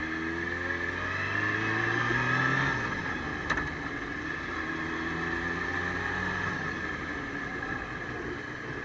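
Kawasaki ZZR 600 motorcycle riding along with a steady engine drone and wind roar, the engine note dropping and easing off as the rear brake is applied, with a brief click partway through.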